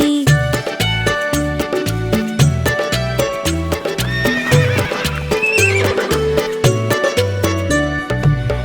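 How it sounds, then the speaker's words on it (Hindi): A horse neighs over steady clip-clopping hooves, set inside a bright, busy children's Hindi nursery-rhyme song with rhythmic music throughout; loud and continuous. "एक छबीला घोड़ा था, एक छबीली घोड़ी थी।"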